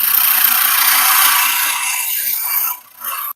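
A bench grinder wheel being dressed before sharpening woodturning tools gives off a loud, steady, close hissing grind that runs for about three seconds, dips briefly, then resumes before stopping.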